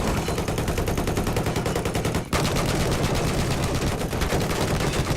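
Machine gun fire in Battlefield 4, dense rapid bursts rattling loudly and almost nonstop, with one brief gap partway through.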